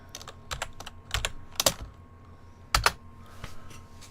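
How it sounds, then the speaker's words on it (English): Irregular bursts of keystrokes on a computer keyboard, clusters of taps with short pauses between, close and fairly quiet in a still room with a faint electrical hum. "Why am I typing it in?"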